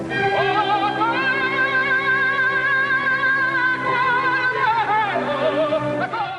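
A lyric operatic tenor sings a loud, sustained note with rich vibrato. The voice is heard alone, with no speech.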